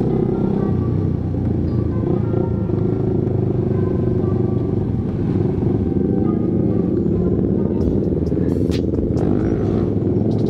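A Suzuki Satria FU 150 motorcycle revs hard while being ridden on a rough road in Indonesia, its engine droning loud and continuous with rumble and clatter, close to the rider.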